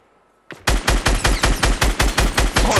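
Video game gunfire, a loud, close burst of rapid automatic shots after a brief quiet lead-in, firing in an even rhythm of about five shots per second.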